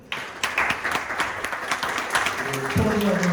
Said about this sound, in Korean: 큰 박수 부탁드리고요